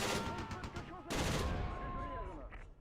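Heavy machine gun fire in the war strategy game Close Combat 3: rapid, dense bursts of gunfire crackle in quick succession, then pause and resume with renewed loud volleys.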